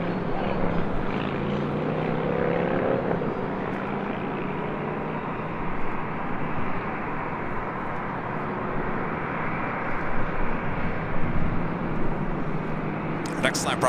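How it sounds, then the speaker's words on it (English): A Boeing 767-300ER jet departs from runway 24 left, a steady broadband engine roar that stays loud and continuous throughout, with a brief swell near the end. "767-300ER. Should be a north side departure on 24 left coming up."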